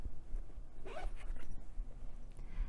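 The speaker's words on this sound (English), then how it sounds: "there's a top zip closure" A top zip closure on a sewn fabric pouch is pulled open or shut in a few quick, rasping strokes, close and distinct with no talk.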